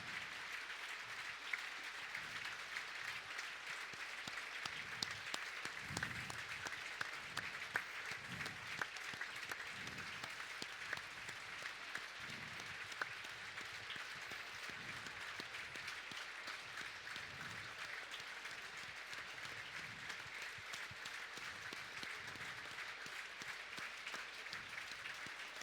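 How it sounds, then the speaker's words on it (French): A large stadium crowd at a Monaco versus Brest football match applauds steadily and continuously in a minute of tribute, a dense, even wash of clapping heard from a distance with no break. "c'est un moment de recueillement sous forme d'applaudissements"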